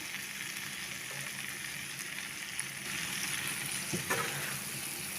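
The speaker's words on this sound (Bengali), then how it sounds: "এখন আলতু নেড়ে সব মশলার সাথে গোল গোসটা মিশিয়ে নিচ্ছি" Beef stirred with spices in a pan, a soft continuous frying sizzle with occasional light scrapes, fairly faint and steady.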